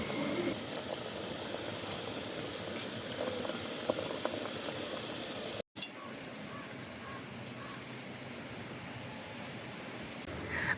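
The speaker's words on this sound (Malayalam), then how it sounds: "വെള്ളം നല്ലപോലെ തിളച്ച് ആവി വരുന്നുണ്ട്" A steady, hissing bubble of water boiling in an idli steamer continues quietly throughout, briefly cut by a moment of silence midway.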